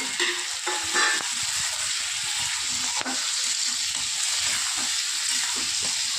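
Chopped tomatoes go into onions frying in a pan for upma, giving a continuous soft sizzle with scraping stirs and a few clinks of the spoon against the pan.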